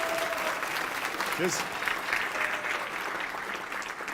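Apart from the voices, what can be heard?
round of applause at convocation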